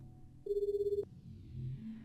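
A cell phone ringtone plays a short, rapid electronic pulsing ring for about half a second, clear and close over a quiet low background hum.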